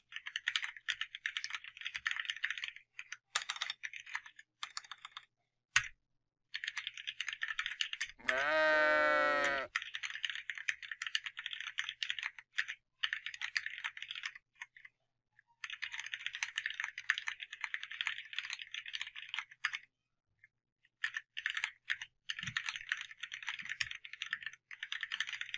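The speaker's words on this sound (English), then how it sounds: "Okay, so it looks like I can type it out just as fast." Typing on a CharaChorder Lite chord keyboard: quick bursts of clicky key presses in steady runs with short pauses, close and fairly quiet, plus one brief rattling clatter partway through.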